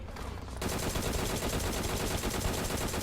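Rapid automatic gunfire erupts in a battle royale video game, a dense, loud stream of shots that starts abruptly and hammers on continuously to the end.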